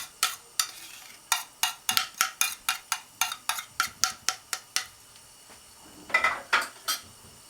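Onions and ginger cooking in a pan for chicken jalfrezi, with a spatula striking and scraping the pan in a quick, steady run of sharp clicks, then a pause and a short final burst.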